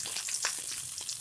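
Paneer tikka shallow-fries in a pan with a little oil, giving a steady close sizzle and crackle throughout, with faint scraping of stirring.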